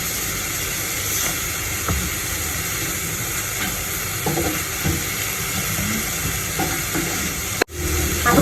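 Garlic cloves frying in a pan, a steady loud sizzle and hiss running throughout with faint stirring scrapes and a brief sharp knock near the end.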